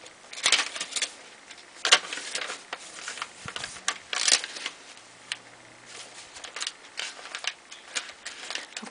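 Pages of a handmade file folder junk journal being flipped quickly, giving a close run of papery riffles, flutters and soft slaps, irregular and fairly quiet.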